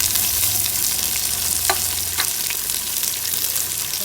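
Onions sauté with salt in a pan for ghee rice, giving a dense, loud, continuous sizzle up close with a couple of short scraping stirs near the middle and no talking.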